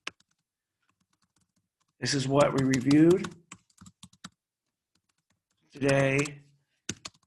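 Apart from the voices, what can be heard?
typing on a computer keyboard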